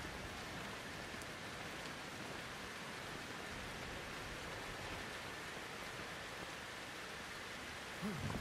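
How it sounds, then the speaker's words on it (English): Steady rain in the horror video game Outlast 2, a continuous dense hiss of falling drops and patter on surfaces, even and unbroken throughout, moderately faint. "It's still raining."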